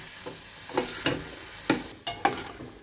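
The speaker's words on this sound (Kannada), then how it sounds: "ಹಸಿ ಬಟಾಣಿ ಹಾಕ್ತಾಯಿದ್ದೀನಿ. ಹಾಕಿ ಒಂದು ಸ್ವಲ್ಪ ಇದನ್ನು ಹುರ್ಕೊಳ್ಳೋಣ." Fresh green peas tipped into hot oil in a pan and stirred, giving a sharp sizzle that rises with several scrapes and clatters of a spoon against the pan, close and otherwise free of talk.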